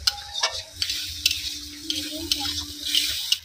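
Fried potatoes stirred into spice masala in a pan on a village kitchen stove, with a steady soft sizzle and irregular scraping strokes of a spoon against the pan, close and fairly quiet.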